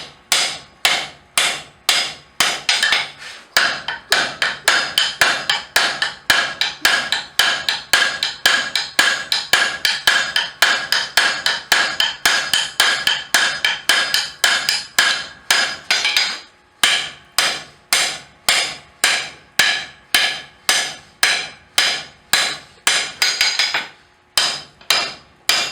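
Hot stock is forged down with a 2 1/4 pound blacksmith's hammer: long runs of fast, bright metallic strikes on the anvil, broken by brief pauses before the pounding resumes, close and loud with no talk.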